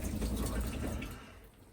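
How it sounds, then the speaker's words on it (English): A caravan toilet flushes with a short rushing gush of water that tails off quickly, heard up close. "Open the slide, once you're finished, flush down"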